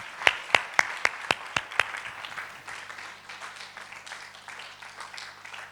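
Conference audience applauding, opening with about seven sharp, loud claps that settle into softer, scattered clapping and room murmur fading toward the end.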